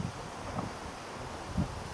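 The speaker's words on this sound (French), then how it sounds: "Ouais, on voit qu'il y a du vent." Wind blows outdoors near beehives, a soft steady rushing with light buffeting on the microphone and rustling, no voices.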